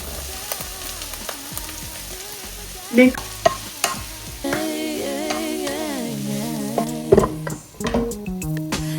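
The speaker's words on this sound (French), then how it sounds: "j'ai mis huile d'olive. Je vais laisser chauffer un peu. Je vais incorporer l'oignon." Onion frying in hot olive oil with a steady sizzle and occasional stirring, partly masked by music with singing over it.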